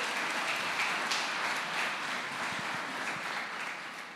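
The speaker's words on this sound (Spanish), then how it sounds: "Damos un aplauso al Señor." Church congregation applauding during a sermon, a dense, continuous wash of many hands clapping at once, steady and moderately distant, slowly tapering toward the end with no voices over it.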